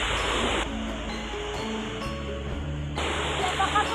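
Ocean waves wash onto a beach in a steady, loud roar of surf, broken midway by a quieter stretch where faint tonal sounds come through before the surf rises again.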